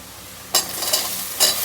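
Onions frying with salt, chili, masala and turmeric in a pressure cooker, with ridge gourd vegetables stirred in, give two loud scraping stirs over a steady sizzle, close and alone.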